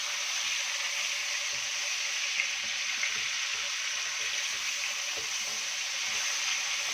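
Fish sizzling steadily in hot oil for fish karahi, a soft, even hiss with faint crackles, heard alone without talk.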